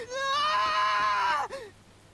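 A high, drawn-out scream of a character in the video game AI: The Somnium Files, loud and wavering for over a second before breaking off abruptly, followed by a short strained gasp.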